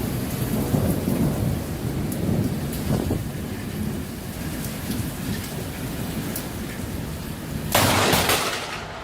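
Thunderstorm in Queensland, Australia, with steady heavy rain pouring down throughout and rolling thunder rumbling several times, ending in a loud, close crack of thunder near the end.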